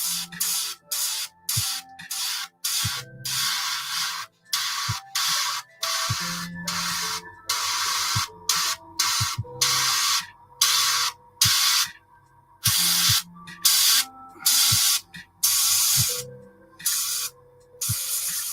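Aerosol paint sprayed onto a bench in a long run of short, loud hissing bursts separated by brief silent pauses, close to the can, with no talking.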